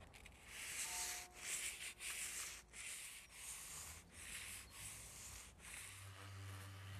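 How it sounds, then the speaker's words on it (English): Sandpaper wrapped on a sanding block rubs back and forth along a wooden window frame in steady close strokes, a continuous abrasive scratching with brief pauses between passes. "going to use a sanding block here with some sandpaper"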